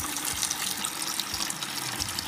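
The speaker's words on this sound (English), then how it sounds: "I'm gonna run about a gallon or two of water through it" Water gushes steadily through a new inline fridge water filter into a bucket, a constant splashing rush at moderate level with faint low gurgles.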